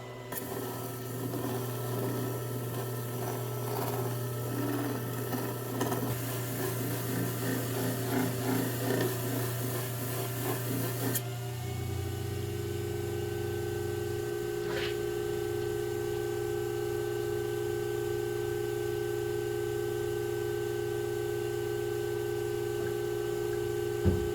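A HI-TECH DIAMOND All-U-Need flat lap runs with water, a steady motor hum under continuous wet grinding and rattling that cuts to a quieter, smoother whir partway through, with one brief clink.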